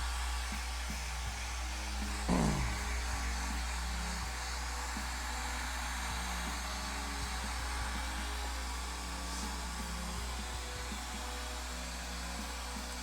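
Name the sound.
hair dryer blow drying a painting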